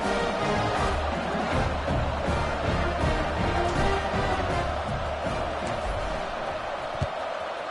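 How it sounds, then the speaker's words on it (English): A stadium crowd at an American football game roars in a dense, sustained wash of cheering during a kickoff, with a commentator's voice over it and a sharp thud near the end. "this crowd is feeling themselves after that last drive"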